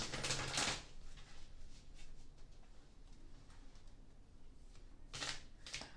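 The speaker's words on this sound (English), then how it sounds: "And while I'm shuffling here, I'm going to see if I can't get anything else out of the cards." Dreams of Gaia tarot cards are shuffled in two short, faint riffling bursts at the start and end, with quiet room tone in between.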